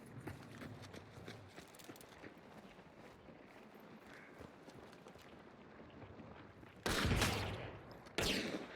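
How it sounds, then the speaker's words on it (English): Shotgun blasts in an online shooter video game: after a quiet stretch of faint, scattered in-game noise, two sharp, loud booms land near the end, close and alone. "That's a shotgun."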